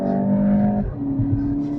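A car accelerates hard in sport mode on a road closed to traffic, its engine revving loudly and close up, then dropping pitch briefly at a gear change before pulling strongly again.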